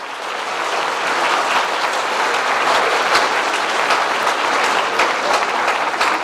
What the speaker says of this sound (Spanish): Entonces, para él, un muy fuerte aplauso